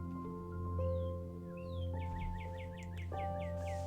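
A bird caws loudly just outside a window in a string of harsh, repeated calls, close and prominent over a steady background hum.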